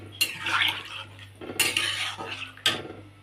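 Fish pieces are added to a pot of simmering curry, then a lid goes on, giving three sharp metallic clanks and clatters separated by brief pauses, with a low steady hum underneath.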